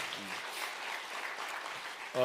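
Church congregation clapping for the choir during an evening revival service, a steady dense patter of applause filling the room, with brief speech-like tones at the start and end.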